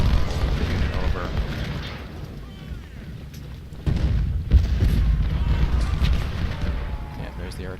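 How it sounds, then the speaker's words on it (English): Artillery booms in the Civil War strategy game Ultimate General: Civil War, with repeated deep, rumbling blasts over a continuous low roar of battle that grows louder partway through. "there's the artillery"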